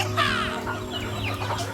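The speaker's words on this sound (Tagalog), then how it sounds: "ang daming manok" Chickens cluck repeatedly on a small farm, a loud, close chorus of overlapping clucks with a steady low hum beneath.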